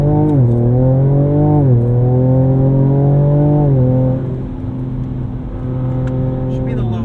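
A 2024 Ford Ranger Raptor truck accelerates hard, its engine note climbing steadily then dropping abruptly at each of several gear shifts, loud and droning as heard from inside the cab.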